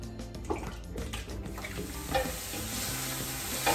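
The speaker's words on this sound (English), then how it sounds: "Now I start by sauteing some veggies." Chopped onion, carrot and celery sizzle and hiss steadily in a hot pot as a base for a thick potato soup. Scraping stirs cut through the frying, with no talking.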